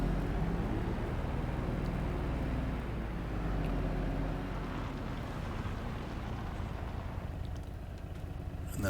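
A John Deere tractor in Farming Simulator 22 drives out of the farmyard, its steady low engine drone rumbling continuously and fairly loud with no talk over it.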